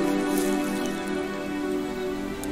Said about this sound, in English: And the rain descended,